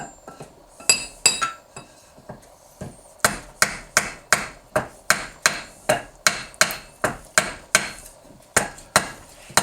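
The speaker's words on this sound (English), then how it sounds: "Just slowly tap it down." Hammer taps a coin ring down a steel mandrel set in a wooden block, about twenty sharp metallic strikes in a steady rhythm, with a brief quicker cluster at the start, close and loud, with no talking.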